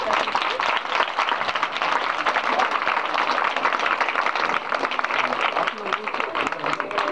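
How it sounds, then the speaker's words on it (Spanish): Dense, steady applause fills a school donation event, with many hands clapping together in a continuous wash at moderate volume that holds level for several seconds. "Brindémosle un caluroso aplauso"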